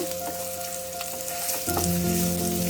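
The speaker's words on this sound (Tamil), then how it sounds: "ஆயில் கொஞ்சம் ஹீட் ஆனோன்னா முதல்ல நம்ம இஞ்சி பூடு போட்டுடலாம்" Ginger and garlic sizzle in hot oil in a pan for momos, a steady close frying hiss that grows slightly louder partway through, with no talking.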